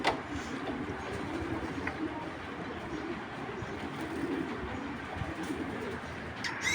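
Pigeons in a loft of fancy breeds give soft, low cooing amid a constant noisy background, with faint brief sounds near the end.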